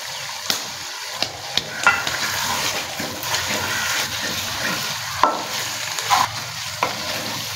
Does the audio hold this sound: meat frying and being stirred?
yes